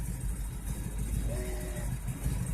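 A truck engine idles with an exhaust leak, a steady low rumble and chuff running throughout at close range, with a faint brief tone rising over it midway.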